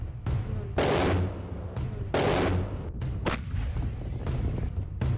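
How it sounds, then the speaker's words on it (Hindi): Russian howitzer artillery bombards Ukrainian positions in wartime news footage, with several loud, heavy booms in quick succession, each followed by a rumbling decay, then a further blast amid lingering noise. "रूसी सेना की हावित्जर तोपें यूक्रेन की फौज पर भयंकर बमबारी कर रही हैं"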